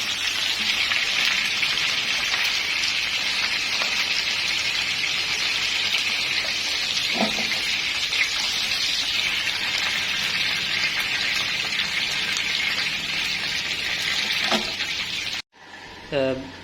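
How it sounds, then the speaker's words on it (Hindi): Pieces of chicken fry in hot oil over low heat, giving a steady, dense sizzle that runs almost unbroken throughout, with a few faint clinks before it cuts off briefly near the end. "पहले तेल को गर्म कर लेंगे, उसके बाद फिर इसको चिकन को हल्की आंच पर फ्राई करेंगे इसको।"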